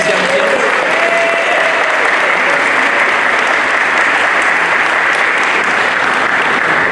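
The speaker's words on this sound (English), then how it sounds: "How about a round of applause for these young kids?" Sustained applause from a crowd at an open house of a public building, dense and steady throughout, loud and fairly close with a few voices faintly mixed in.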